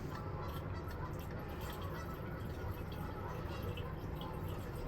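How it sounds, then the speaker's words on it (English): Water is topped up into an engine's coolant system, a continuous close splashing and gurgling pour that stays steady throughout. "let's top her a bit more water then"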